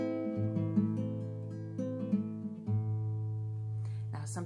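Minor chord on guitar, picked and strummed several times so notes ring and overlap in a slow pattern, close and moderately soft, with a faint noise near the end.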